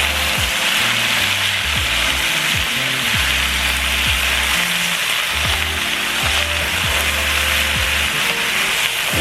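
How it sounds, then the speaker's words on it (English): Chicken, sausage and vegetables cook in a big pot with a constant loud hiss and sizzle, broken by repeated scraping stirs of a spoon against the pot. "we're going to let our vegetables cook down just a bit"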